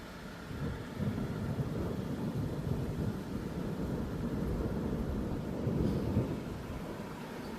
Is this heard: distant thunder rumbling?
yes